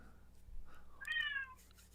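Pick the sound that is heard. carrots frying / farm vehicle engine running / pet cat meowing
pet cat meowing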